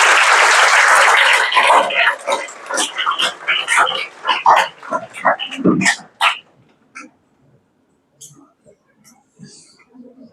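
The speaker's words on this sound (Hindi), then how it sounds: "एक बार खुशी के लिए तालियां हो जानी चाहिए।" Students in a classroom applauding, a dense burst of clapping that fades within a few seconds into scattered voices and stray noises before near quiet.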